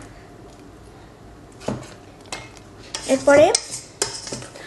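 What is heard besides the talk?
mixing sponge cake batter in a bowl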